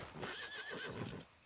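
A horse in Red Dead Redemption 2 gives a quick, faint whinny with a wavering high neigh, softly overlapping hoof clip-clop, in a short burst and no speech.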